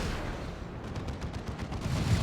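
Hell Gun fire during a 2v2 Dawn of War 2: Retribution match, a dense rattle of rapid shots mixed with battle noise, steady and moderately loud throughout.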